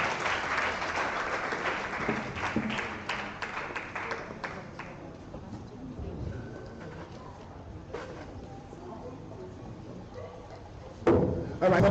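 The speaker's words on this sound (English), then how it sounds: "giving them a sounding round of applause" Dense, sustained applause from a large crowd at a Medical Women's Association of Nigeria event in Ekiti State, gradually thinning out, then a brief burst of clapping near the end.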